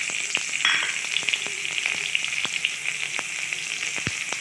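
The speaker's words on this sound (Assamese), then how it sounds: "এতিয়া ইয়াত মিহিকৈ কাটি থোৱা পিঁয়াজটো দি দিছোঁ।" Finely chopped onion frying in hot oil with cumin and dried chilli, a steady close sizzle and crackle with a few soft stirring taps, no voices.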